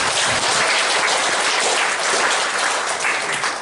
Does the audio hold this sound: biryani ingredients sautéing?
no